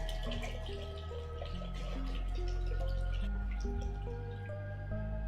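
Water pours into a sweet tea container, producing a steady trickling and gurgling stream with shifting tones as the vessel fills, close and continuous.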